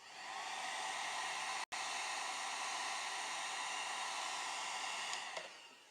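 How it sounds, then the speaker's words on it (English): Hair dryer blowing steadily to dry paint on sci-fi wargames terrain, a continuous close airy whoosh with one abrupt momentary cut early on, then running on alone. "So here we go, hairdryer again"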